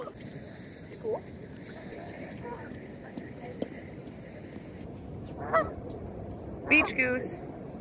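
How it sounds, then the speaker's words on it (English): Goose honking on a beach, two short honking bursts standing out near the end over steady shoreline ambience, with talk around them. "Beach goose."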